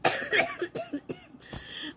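A short burst of dry coughs, several quick hacks in an uneven cluster, close and fairly soft.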